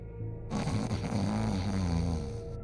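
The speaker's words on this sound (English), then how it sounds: "And he was snoring heavily." Man snoring heavily in the game Alan Wake Remastered, a loud, close, rumbling drawn-out snore with a raspy throaty texture and steady background noise, no talking over it.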